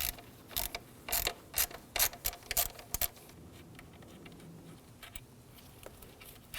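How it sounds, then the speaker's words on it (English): A ratchet loosens the 7mm bolt on the MAP sensor on the intake manifold of a 2009-2014 Ford F-150 3.5L V6. Rapid close bursts of clicking stop and start, then fade to sparse quieter ticks. "We can remove the 7mm bolt."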